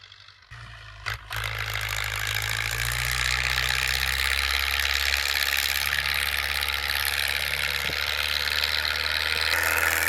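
A tractor engine drones steadily at close range while plowing a corn field, holding a constant low rumble after a brief rise at the start.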